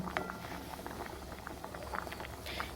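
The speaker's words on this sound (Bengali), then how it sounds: "ডালটা সিদ্ধ হওয়ার সময় এই যে ফেনাগুলো উঠেছে" Dal simmering in a pot and foaming, a steady close bubbling with soft pops and patter throughout.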